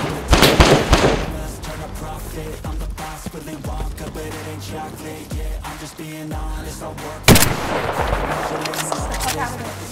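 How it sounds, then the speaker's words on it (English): Gunfire in the survival video game DayZ, with bursts of shots and heavy thumps that are loudest at the start and again near the end, mixed with game noise under people talking. "Oh, I'm getting shot at."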